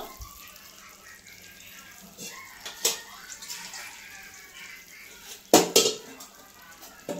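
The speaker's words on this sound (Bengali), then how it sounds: "যেহেতু 2 বাটি জল চাল দিয়েছি, এই 2 বাটি জল দিলাম।" Water is poured from a bowl into a pot of rice for Basanti pulao, splashing in short bursts with metallic clinks of the utensils, fairly faint and close.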